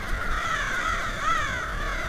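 Crows caw in a few rough, drawn-out calls that rise and fall, fairly clear against a soft background hiss.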